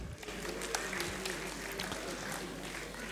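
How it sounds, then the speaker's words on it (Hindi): A crowd claps at a cricket league event where sponsors and team owners are introduced, a fairly quiet, sustained patter of applause lasting a few seconds. "जोरदार तालियां हो जाए"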